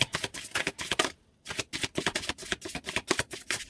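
Tarot cards are shuffled in quick riffling bursts, a brief pause, then more rapid shuffling, close and crisp with no voices.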